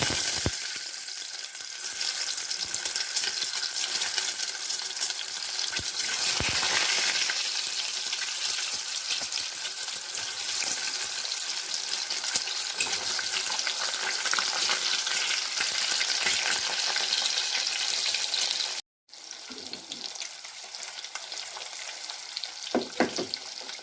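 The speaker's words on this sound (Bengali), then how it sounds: "তেল গরম হয়ে গেছে, নুন দিচ্ছি, এবার ডিমগুলো ভেজে নেব।" Oil sizzles loudly and steadily as eggs fry in a pan, a constant crackling hiss with a brief break near the end.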